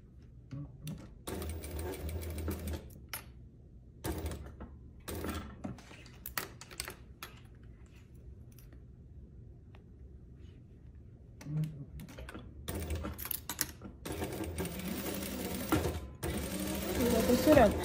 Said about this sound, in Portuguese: Costurando.